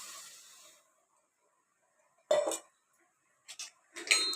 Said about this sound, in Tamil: தவா போட்டுக்கலாம்.